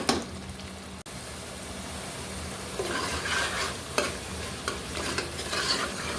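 Chana masala is stirred and sautéed in a pan: a soft, steady sizzle after a sharp knock, then building scraping strokes of a spoon against the pan, close and continuous, without speech.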